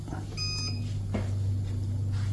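The controller of an ABESTORM 360-degree intake air filtration system for woodworking gives one short electronic beep over the steady low hum of its running fan.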